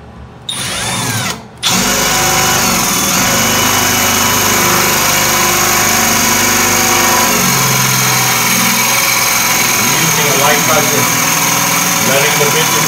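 A power drill bit grinds loudly and continuously through a wall tile near a corner, drilling for wall-mounted sink supports, after a brief start-stop at the beginning.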